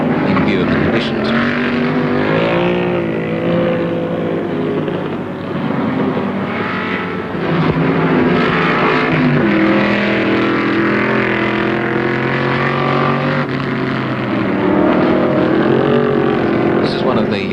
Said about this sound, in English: This is one of the hero motor cars of Australian motor racing.